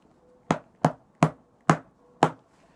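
Five sharp, evenly spaced hammer strikes land on a dense ball of aluminum foil, each a crisp, loud thud with a short metallic crunch, alone with no talking.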